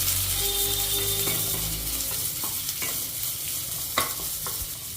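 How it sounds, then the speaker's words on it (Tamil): Onion, curry leaves and green chillies sautéing in oil with mustard seeds, a loud continuous sizzle under repeated scraping strokes of a spatula against the pan, with no talking. "கருவேப்பிலை வெங்காயம் பச்சை மிளகாய் எல்லாம் போட்டு நம்ம இப்போ வதக்கணும்"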